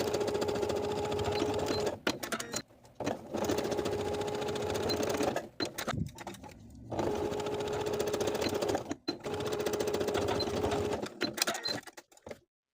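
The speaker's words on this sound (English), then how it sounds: "And now that that's pinned, I'll stitch at each seam." A sewing machine stitches the seams of a pair of shorts, running in long steady bursts with a few short pauses between them, close and clear with no talk.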